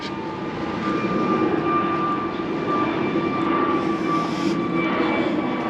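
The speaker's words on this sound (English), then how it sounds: "So another plane takes off." A steady, loud roar of an airplane engine fills the whole stretch, a constant broadband rumble with faint tonal whine, as a plane takes off nearby in Ciudad Jardin, Palma de Mallorca.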